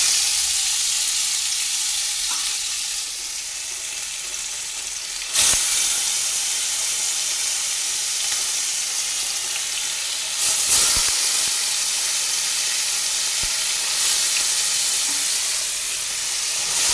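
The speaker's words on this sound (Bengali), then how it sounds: "কড়াইতে আস্তে আস্তে করে দিয়ে দেব।" Marinated fish fries in a kadai with a loud, continuous broadband hiss and sizzle, a couple of brief sharper bursts as pieces settle in the oil, close and with no talk.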